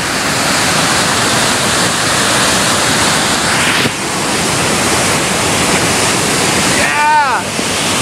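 A river swollen by Hurricane Irene rushes past in a loud, dense roar of floodwater, steady and close, with a brief break partway through and a short whistling chirp near the end.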